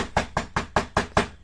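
Six sharp, evenly spaced knocks rap on a door, loud and close, each a solid thud with a quick decay, with no voices over them.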